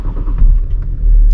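A 2017 Range Rover Vogue parked in a lot, heard as a loud, close, low engine rumble that throbs and swells briefly, consistent with startup.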